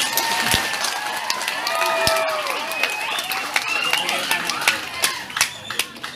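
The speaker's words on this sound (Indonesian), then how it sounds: "Tepuk tangan dulu untuk ini." Applause from the congregation at a thanksgiving Mass for a newly ordained priest at a vocational high school, brisk crowd clapping with sharp individual claps standing out and voices murmuring underneath, thinning toward the end.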